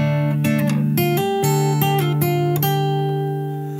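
Fingerstyle acoustic guitar plays the opening bar of a song's chorus, plucked bass notes and chords ringing closely in a steady rhythm before sustaining into a fade.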